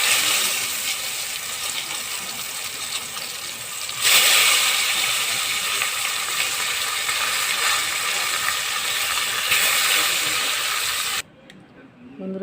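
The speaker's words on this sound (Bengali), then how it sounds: "বাকি বড়াটাও এভাবে ভেজে নিচ্ছি।" Pumpkin leaf fritters with shrimp sizzle steadily in hot oil, a continuous crackling hiss that swells louder partway through and then drops away abruptly near the end.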